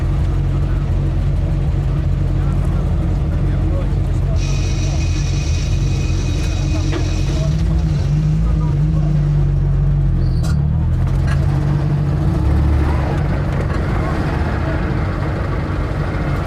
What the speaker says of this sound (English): This has to be the first time an Invacar Model 70 has been around Goodwood.